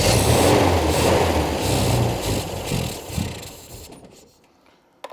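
An old MG BGT engine, long out of use and now barely fed with fuel, runs steadily with a rough low rumble, then dies away toward the end, leaving near silence and a brief final knock.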